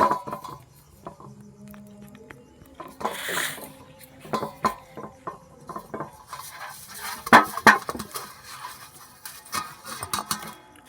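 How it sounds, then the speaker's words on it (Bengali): A metal plate is greased with mustard oil. Scattered clinks and clatters of the plate and utensils come in uneven bursts with quiet gaps between them, close and moderately loud. "থালা একটু সর্ষের তেল লাগিয়ে নেব থালার গায়ে"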